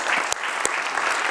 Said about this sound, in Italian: voglio dare ancora una volta un applauso.